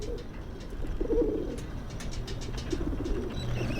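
A pigeon coos in the video game Whateverland, soft low calls over a steady murmur of ambient noise.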